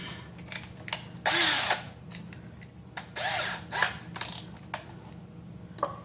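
A power drill backs out small Phillips screws from a Peavey speaker, several short whirring bursts of varying length with small clicks and handling noises between them, up close and without speech.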